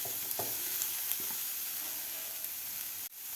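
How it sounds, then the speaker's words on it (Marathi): Broccoli sautés in oil with a soft continuous sizzle and hiss, a few light stirring scrapes near the start, close and quiet, cut off abruptly near the end. "1 मिनिटभर मी तेलामध्ये ब्रोकोली व्यवस्थित परतून घेतलेली आहे"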